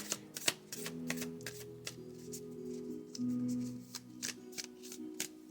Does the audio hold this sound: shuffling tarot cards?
yes